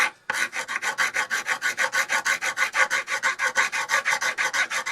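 A hand file rasps across a small power door lock part in quick, even back-and-forth strokes, about five per second. The bright, gritty scrape is close, loud and continuous, with no talking.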